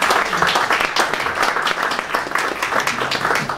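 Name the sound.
audience applauding the speaker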